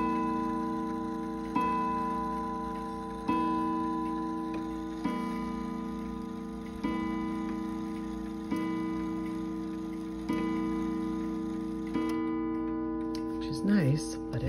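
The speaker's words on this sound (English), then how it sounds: "This is gonna chime 8 in a," An old key-wound Seth Thomas clock strikes a steady series of resonant chime tones at even intervals, each ringing out and decaying, with faint ticking beneath and a brief handling noise at the end.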